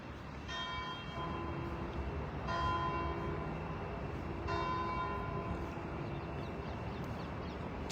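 Church bells ring during a Catholic Advent Mass, with three distinct struck peals spaced about two seconds apart, each followed by a long ringing decay, moderately faint and heard without talk.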